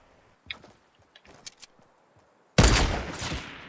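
Fortnite gunfire erupts loudly near the end, a dense burst of shots that follows scattered quieter clicks and taps.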